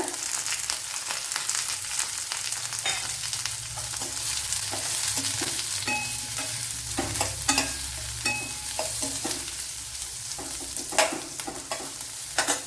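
A medium-sized onion frying in a pan beside raw banana curry makes a continuous near sizzle, broken by repeated spoon scrapes and clinks, with no voices.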